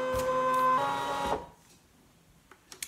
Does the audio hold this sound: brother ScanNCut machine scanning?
yes